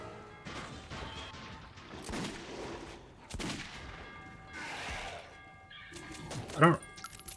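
Gunfire in the video game Metro 2033 Redux comes as scattered sharp shots and crashing impacts in a station setting, with a louder burst near the end, and a player talks over it.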